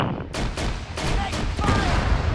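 Gunfire in the video game ArmA 3, a rapid burst of loud, sharp shots cracking in quick succession over a dense battlefield rumble.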